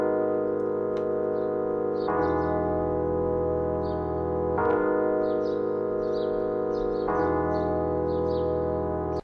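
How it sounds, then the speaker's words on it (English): A lo-fi loop built from two basic sustained chords that alternate every couple of seconds, with faint bird chirps twittering high above; soft and steady, with no talking. "So you can hear they're really basic chords and there's only two of them"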